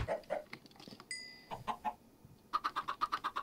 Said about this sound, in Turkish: Yavru tavuk oldu.